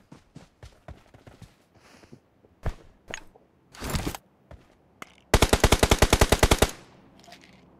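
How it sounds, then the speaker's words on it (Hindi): Machine gun fire in the PUBG Mobile video game: scattered single shots and bursts, then a loud, rapid, evenly spaced burst of about a dozen rounds, with no talk over it. "राइट साइड मशीन गन वाले बंदे में"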